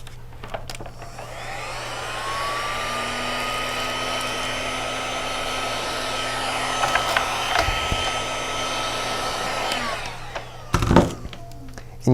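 Heat gun shrinking plastic wrap around a case on a Traco SuperSealer I-bar shrink-wrap setup, a steady blowing whir held for about ten seconds, then cutting off, with a few brief clatters near the end.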